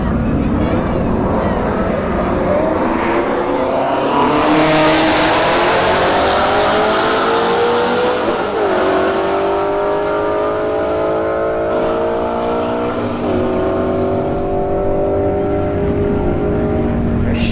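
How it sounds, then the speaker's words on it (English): Camaro SS and Shelby GT350 drag racing side by side at a drag strip, loud engines roaring and rising through gear changes with sweeping pitch, steady crowd-level noise throughout, a commentator talking over it. "Camaro SS in the right lane, Shelby GT350 in the left lane."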